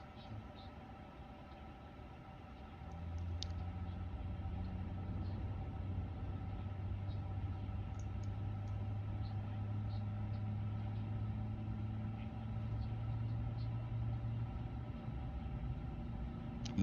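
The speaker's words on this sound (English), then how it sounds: "Listen to that engines." Jet engines of an iniBuilds A350 airliner in a flight simulator hum and whine steadily, a low droning tone rising in after a few seconds and holding a smooth, even rumble with a faint high whine above it.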